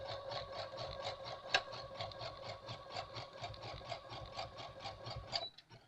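A sewing machine stitches seams in a fast, even run of mechanical clatter. The whirring rhythm is close and moderately loud, then stops abruptly near the end.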